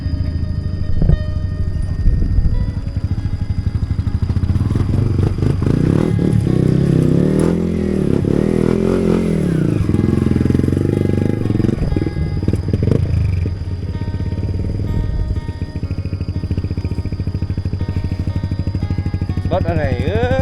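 Big bike motorcycles passing on a road in a rural Lao village, engines rumbling and swelling as they go by, loud and close, with people talking over the noise.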